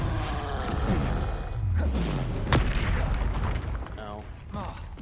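A Repulsor spell goes off in Hogwarts Legacy, a booming, creaking magical blast with mechanical rattles and a deep rumble that swells and fades over several seconds, mixed with game effects.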